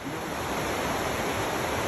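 Tenaya Creek flows near the Mirror Lake Loop Trail in Yosemite, a loud, steady rushing roar of water with no voices.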